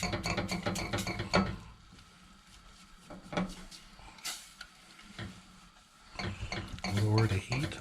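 A spoon scrapes and clinks around a pot while bread flour and liquid are stirred into a tang zhong paste, giving a run of quick close taps at the start and scattered knocks after quieter pauses.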